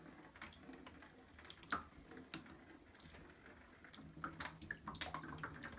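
Water draining and dripping from a backflow preventer pipe fed by a long copper run, with scattered drips and light trickling over a low steady background, the drops becoming sparse and irregular toward the end.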